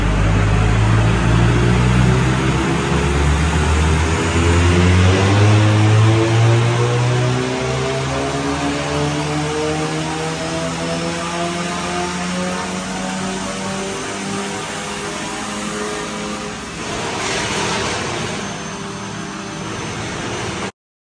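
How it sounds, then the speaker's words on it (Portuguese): Remapped stage 2 Volkswagen Fusca TSI, about 200 hp, revving hard on a dyno, a loud engine note climbing and falling in pitch over twenty seconds, with a brief burst of crackle near the end. "Barulhento é, pipoco faz, vamos ver a potência."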